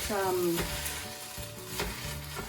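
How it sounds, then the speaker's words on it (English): Steady crackling sizzle of water on a hot stove burner, close and continuous, with a few soft clanks from cookware partway through. "it's got some water sizzling on it"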